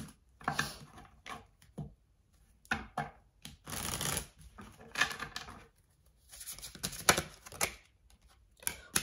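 Tarot cards are shuffled in several separate bursts of quick riffling and slapping, close up, with quiet pauses between them.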